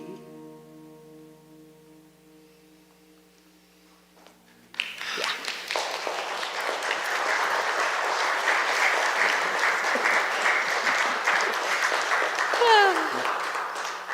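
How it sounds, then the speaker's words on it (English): A church congregation breaks into sustained applause after a sung meditation song, the clapping starting abruptly after a soft sustained musical tone and continuing loud and steady for about ten seconds. "I know we don't usually applaud for the meditation song, but yeah, that was just gorgeous"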